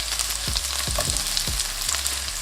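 Sliced onions and peppers sauté in about two tablespoons of oil over medium heat, a steady close sizzle running throughout with a few soft stirring scrapes at regular intervals.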